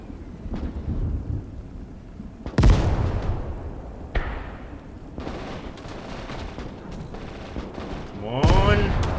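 Machine gun fire in the Gates of Hell war game, heavy booming bursts and rattling shots layered over a constant rumbling battlefield din, with voices talking amid the gunfire.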